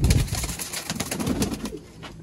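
Sialkoti pigeons with blue eyes coo softly and repeatedly at close range, their low throaty calls overlapping against a background of light rustling.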